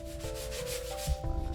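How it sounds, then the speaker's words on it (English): Light hand sanding of cheap 2x2 wood blocks, a steady close scraping rub that runs continuously, with a slight bump and a few firmer strokes toward the end, and a faint tonal hum underneath. "after some light hand sanding"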